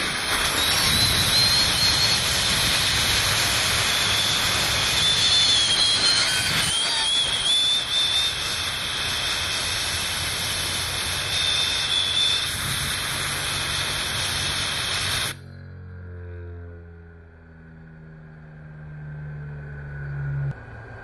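Tesla turbine built from hard drive platters, driven by compressed air at about 125 PSI: a loud steady rushing hiss with a high whine for about fifteen seconds, then cutting off to a quiet low rumble.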